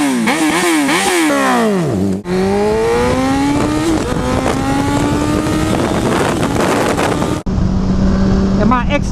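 A superbike revs and accelerates hard with a loud, rising engine whine, running through gear changes with brief dips between shifts, close and continuous with wind rush.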